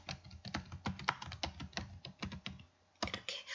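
Keys tapped on a computer keyboard while entering email text, a quick irregular run of crisp clicks with a brief pause before a final flurry, close and clear.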